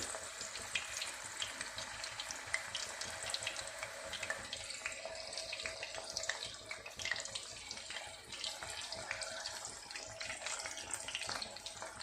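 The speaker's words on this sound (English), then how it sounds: "you can hear the sound started splattering all over." Steady crackling sizzle of mushrooms frying in hot oil, with dense popping and splattering throughout, close and fairly quiet, no voices.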